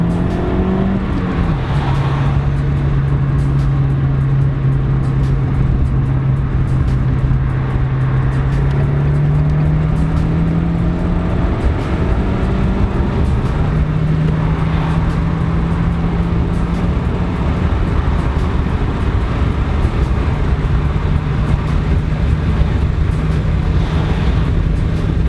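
A Renault Megane RS225 drives fast along a straight on a track, its engine droning steadily as it pulls through the gears, with brief dips at the shifts over continuous loud road and wind roar.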